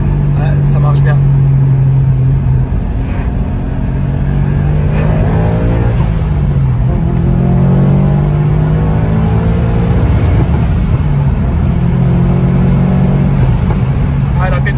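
A Subaru car in Sport Sharp mode accelerates hard on the road, its engine note rising steadily with occasional exhaust pops, loud and close, while people talk inside the cabin.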